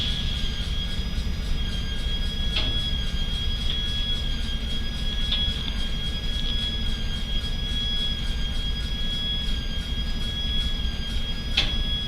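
A Norfolk Southern freight train rumbles steadily with a continuous low roar and a sustained high-pitched wheel squeal, with occasional sharp clanks.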